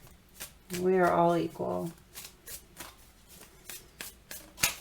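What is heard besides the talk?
shuffling tarot cards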